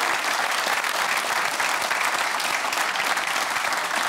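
Studio audience applause at a live television music show fills the room with steady, dense clapping throughout, loud and continuous with no talk over it.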